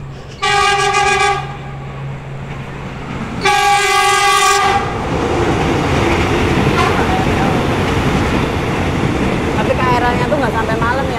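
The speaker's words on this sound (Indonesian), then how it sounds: "Ntar ada kereta lewat ya Mas." A train horn blasts twice beside a railway line, first short and then longer, as the train rumbles past loudly. A heavy, continuous roar of wheels on track follows, and faint squeals come near the end.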